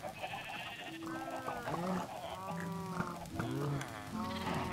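Several sheep bleat on a sheep farm in Minecraft, overlapping wavering calls coming in quick succession over a soft background murmur.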